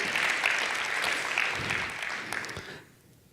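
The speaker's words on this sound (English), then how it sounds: "So I would like you all to hold your applause till the end" Applause from a congregation at a youth-led coming of age service, a dense steady wash of clapping that carries on for nearly three seconds and then fades away to near silence.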